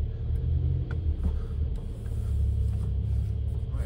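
Porsche 911 992 Carrera 4S with PDK gearbox pulling away, a low, steady engine rumble that swells gently as it moves off, heard from inside the car with no talk over it.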